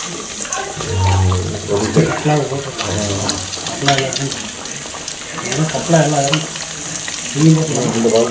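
Fish frying in a pan, a steady sizzle and bubbling hiss running throughout, with voices talking over it.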